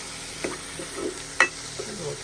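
Onions and green chillies roast in a hot pan for cheese noodles, giving a soft, low sizzle under a few spoon scrapes, one sharp clink standing out in the middle.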